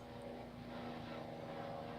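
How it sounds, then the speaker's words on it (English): A steady low engine drone from a helicopter passes at a distance, a faint continuous hum without any talking. "And there goes a helicopter"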